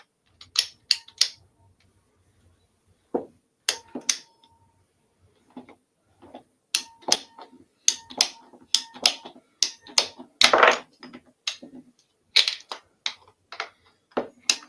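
A hand ratchet tool clicks in scattered, irregular bursts of sharp ticks with brief pauses between them, close and fairly quiet, with no one talking.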